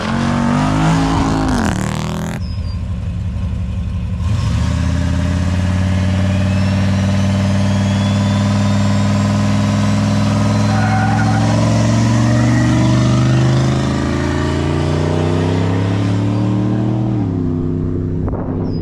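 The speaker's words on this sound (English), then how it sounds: "Do a burnout" A car engine revs hard through a burnout at a car event, rising and holding in a loud sustained roar with shifting pitch, cutting briefly at the start before climbing again and staying close throughout.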